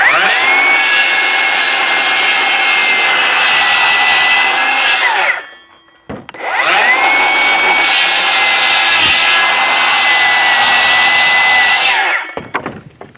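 Wood being cut freehand with a power saw, two long steady whining passes of about five seconds each, separated by a short pause, loud and close with no talking.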